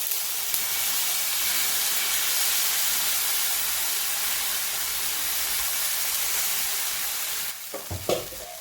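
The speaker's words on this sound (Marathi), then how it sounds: "आपण आता हे अशा पद्धतीने तीळ घालत आहोत" Sesame seeds sizzle in a pan over low gas, a steady hiss and crackle throughout, ending with a few clattering knocks.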